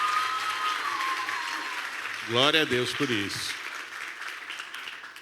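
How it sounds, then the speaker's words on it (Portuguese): A church congregation claps in steady applause while a preacher speaks over it, the clapping fading slightly toward the end. "Eu quero começar pedindo aqui uma salva de palmas para o nosso Deus maravilhoso"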